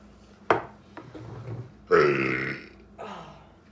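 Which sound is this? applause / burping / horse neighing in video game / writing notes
burping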